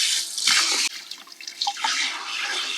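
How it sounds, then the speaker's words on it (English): Water streams from a portable camping shower head into a bucket, a steady splashing hiss with a brief break partway through. "we have a shower."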